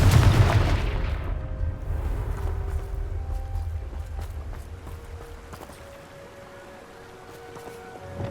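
A Confringo fire spell in Hogwarts Legacy bursts into a deep, booming explosion that rumbles and slowly fades over several seconds, leaving a quieter ambient wash with faint tonal hums.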